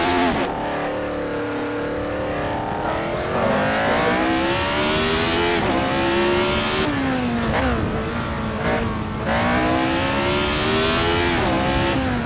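A Lotus 72D Formula 1 car driven in Assetto Corsa at the Goodwood Festival of Speed, its loud engine revving hard and climbing through gears with brief drops at each shift, continuous and close throughout.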